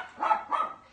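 A dog gives two short, sharp barks in quick succession, fairly close by in a quiet home kitchen.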